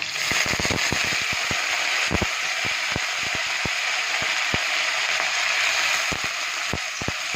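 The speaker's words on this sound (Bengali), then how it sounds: "কারি পাতাটা ভালো করে ভেজে নেবো।" Curry leaves frying in hot oil while making sambar, a dense steady sizzle with sharp crackling pops scattered throughout, close and fairly loud with no talking.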